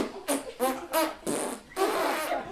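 A man on stage in a one-man play imitates farting with his voice, a series of five blustery, sputtering bursts of rising length, loud and close in a quiet room.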